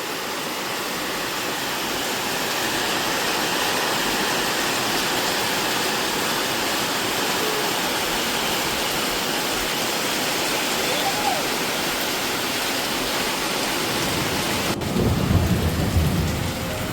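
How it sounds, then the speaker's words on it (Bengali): Heavy rain pours down in a steady, dense roar with thunder, and a deeper rumble swells near the end. "কি জোরে বৃষ্টি পড়ছে,"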